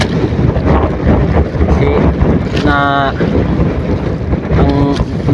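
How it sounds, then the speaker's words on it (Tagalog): Strong wind buffets a fishing boat on a rough sea, a constant loud roar of gusts and waves, with someone speaking briefly over it. "malakas ang hangin at maalon"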